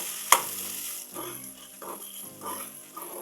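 Bottle gourd pieces with tamarind and green chillies are stirred in a hot frying pan: a steady sizzle runs under repeated soft scraping strokes, with one sharp click near the start and no voices.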